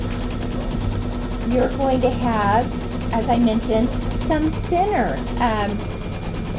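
Embroidery machine stitching out a border design for quilt sashing strips, a steady rapid mechanical hum with a rhythmic needle pulse running continuously under a voice talking throughout.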